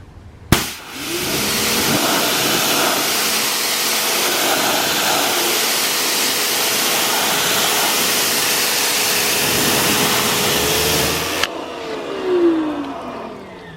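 An electric pressure washer sprays a steady, loud hiss of rinsing water for about eleven seconds, starting and stopping abruptly, with a motor hum running beneath it.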